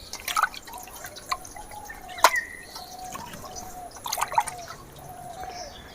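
Water draining from freshly washed raw chicken, scattered drips and small trickling splashes in irregular bursts, close and fairly quiet.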